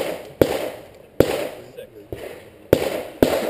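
Five loud, sharp revolver shots from a Smith & Wesson 686 crack out at an outdoor IDPA match, spaced unevenly with short ringing decays, while a voice talks faintly between them.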